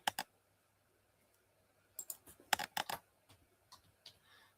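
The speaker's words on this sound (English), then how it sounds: "I'm typing the lyrics, man." Scattered clicky keystrokes, a couple of bursts at first, then a quicker cluster of taps after a pause, close and fairly quiet with no talking.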